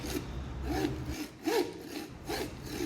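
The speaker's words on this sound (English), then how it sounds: "So sawing can take a long time" A hand saw cuts through a lamb carcass during butchering, making about four close, rhythmic rasping strokes with brief pauses between pulls.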